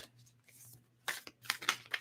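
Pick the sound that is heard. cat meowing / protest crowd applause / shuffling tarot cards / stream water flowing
shuffling tarot cards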